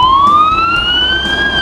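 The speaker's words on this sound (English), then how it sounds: "It's a fire truck. They're coming for us!" A fire truck siren wails loudly and close, its tone sweeping steadily upward, heard alone with no voices.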